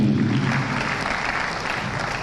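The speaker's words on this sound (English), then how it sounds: "Please can we give him a resounding applause." Audience at a venture capital program event in Enugu, Nigeria, applauding an official, a brief dense burst of clapping with a low murmur underneath, loudest at the start and easing slightly.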